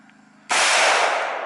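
A single sharp AR-15 rifle shot cracks loud and close after a quiet moment, its blast ringing out and decaying slowly outdoors.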